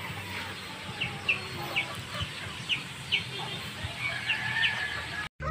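Chickens cluck in short bursts scattered over steady farmyard background noise, fairly close, with no one speaking.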